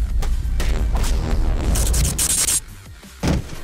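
A bomb explodes in The Stick Tournament video game, a loud, dense burst of booming noise that rumbles for a few seconds, then drops off with a short final blast.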